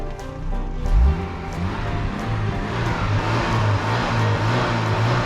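A 1999 Fiat Seicento engine idling, then revving up with a rising harmonic whine before settling into a steady, busy hum, close by.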